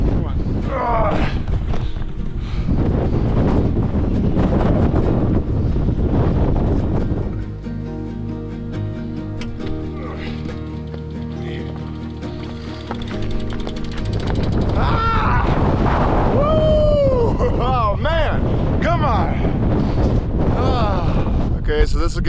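Strong Santa Ana wind gusts buffet a rider on a skinny trail in the Southern California desert, a loud, steady roar of wind noise on the microphone, easing briefly midway before surging again, with a voice speaking over it.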